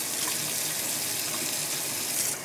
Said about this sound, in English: let the water run for a few seconds to get it totally cold